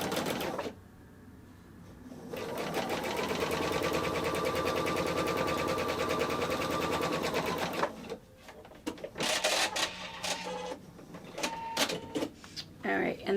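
A sewing machine runs steadily for several seconds stitching quilt block pieces with a quarter-inch seam, a close whirring hum that stops, then brief handling noises and someone talking.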